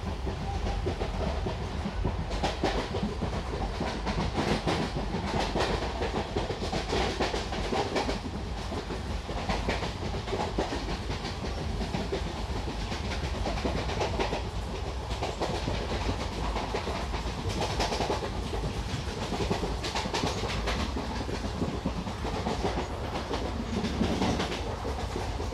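An ICF parcel van train running on rails in Kerala, with a loud continuous rumble and rhythmic clickety-clack of wheels over rail joints, close by and steady throughout.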